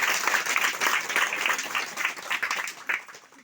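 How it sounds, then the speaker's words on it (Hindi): A small congregation at a prayer meeting claps in a steady burst of applause lasting a few seconds, close and fairly loud. "तालियां होना चाहिए।"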